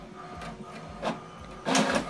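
An HP Deskjet 2700 printer runs an alignment page, its mechanism whirring and clicking in uneven bursts, with a louder carriage pass near the end; no one speaks.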